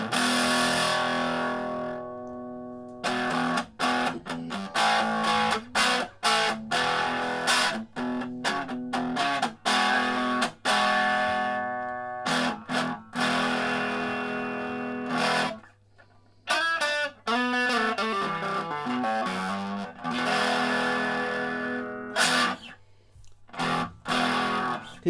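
Electric guitar played through a tiny micro amp set to overdrive gives a fuzzy, distorted tone in choppy strummed bursts and short riffs with brief gaps, close and steady in level.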